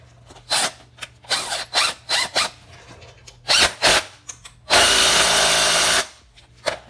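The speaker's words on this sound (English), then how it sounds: "Now let me grab my drill and start tightening this bolt right here." Power drill tightening a bolt on a dirt bike during a home tire change: several short whirring bursts, then one longer sustained run, close and fairly loud with no talk.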